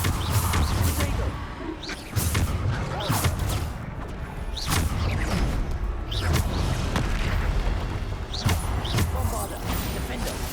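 Repeated Bombarda spell explosions from Hogwarts Legacy boom in a dense, continuous barrage of deep thuds and whooshing blasts, several heavy impacts landing every second or two over a rumbling battle din.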